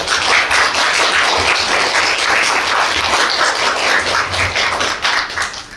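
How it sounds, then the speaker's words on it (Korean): Audience applause at a university graduation ceremony in Korea, continuous dense clapping from a large hall that fills the whole stretch at an even, loud level. "가족 여러분들께 진심으로 감사드리는 박수를 전합니다"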